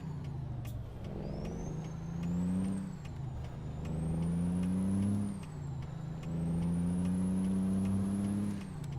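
In American Truck Simulator, a heavy truck pulling double trailers drones and rises through gear shifts, with a high whine climbing alongside it and a brief hiss near the start.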